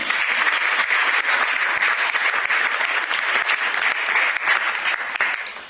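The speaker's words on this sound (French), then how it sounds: "On applaudit le Seigneur comme ça." A church congregation claps for the Lord in a small church, a dense, continuous, fairly loud round of applause that keeps an even pace throughout.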